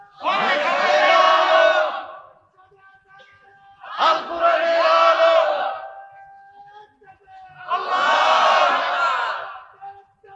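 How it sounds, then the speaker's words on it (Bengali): A large crowd at a Bangla religious waz gathering chants slogans loudly in unison, three long rhythmic bursts of massed voices separated by short pauses, with a faint tone sustained in the gaps. "একটু গলা ছেড়ে স্লোগান দেন তো"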